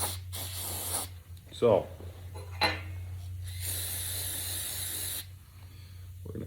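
Acetone cleaner sprayed onto cast iron before welding, heard as short hissing spray bursts, fairly close and moderately loud, with a person speaking briefly between them and a steady low hum running underneath.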